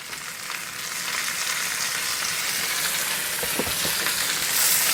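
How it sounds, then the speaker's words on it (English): Shrimp with a little pepper frying in a hot pan for drunken noodles, a steady close sizzle that holds without a break, with a few brief stirring scrapes near the end. "I'm going to add my shrimp, and I'm going to add a little bit of pepper."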